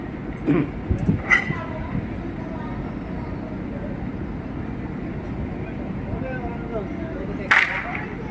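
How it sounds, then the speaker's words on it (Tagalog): A surplus backhoe being moved for loading onto a trailer gives a steady, low mechanical rumble throughout, with brief voices and knocks early on and again near the end. "Yan yung backhoe."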